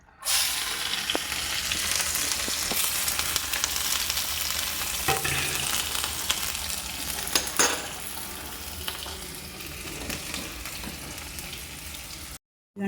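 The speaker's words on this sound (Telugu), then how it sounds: "ఆనియన్స్ అయితే ఇవి సన్నగా తరుక్కున్నాండి వేపేసి" Thinly sliced onions frying in hot oil for chicken dum biryani, a loud continuous sizzle with occasional stirring and clinks of a utensil against the pan, close up and with no talking.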